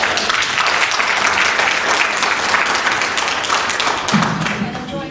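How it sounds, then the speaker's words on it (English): Audience applause fills a school board meeting room in Scarborough, Maine: dense, steady clapping from many hands, loud and close, holding throughout with a faint voice rising near the end. "To hold your applause."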